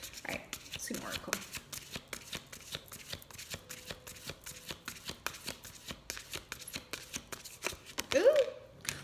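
A deck of oracle cards is shuffled by hand in a rapid run of crisp riffling flicks, close and fairly quiet, with a soft voice murmuring briefly near the end.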